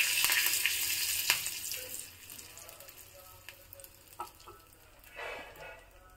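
In a tempering of mustard seeds, asafoetida and curry leaves, a loud burst of sizzling and popping eases into quieter crackles, then swells again briefly, all up close with no speech.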